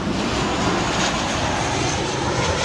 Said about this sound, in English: there are obviously planes coming in